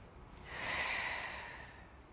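A single slow, deep breath, soft and close, swelling then easing away during a hip-circle warm-up, with no talking.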